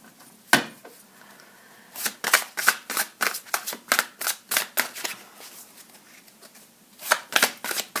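Large tarot cards are handled and shuffled close by, a run of crisp rapid riffling bursts and slaps in quick irregular clusters, fairly quiet, with no talk.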